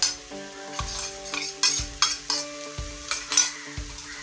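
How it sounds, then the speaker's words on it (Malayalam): Ginger-garlic paste frying in a pan for an egg roast is stirred with a spoon in steady scraping strokes about every second over a soft, continuous sizzle, close up with no talking. "നമുക്കിതിൻ്റെ പച്ചമണം മാറുന്ന വരെ ഒന്ന് ഇളക്കി കൊടുക്കാം"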